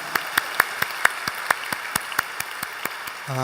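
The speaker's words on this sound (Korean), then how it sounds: "우리 하나님께 감사 영광의 박수 올려드리겠습니다." Sparse applause in a church service, about fifteen distinct claps in a steady rhythm at moderate distance, fairly quiet, with a voice beginning at the very end.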